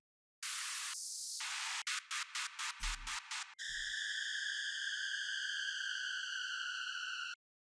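White-noise down filter sweep from a house sample pack, a loud wash of noise with steps that falls in pitch, then a choppy gated burst with low thumps and a sustained bright tonal hiss to the end.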